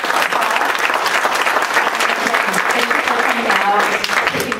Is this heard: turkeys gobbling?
no